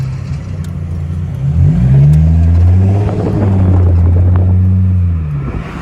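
A Mercedes SLK320 on a nitrous tune revs up in a pull, its engine note rising and sweeping loud and close, holding high for a few seconds, then easing back down.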